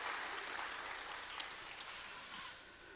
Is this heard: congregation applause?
yes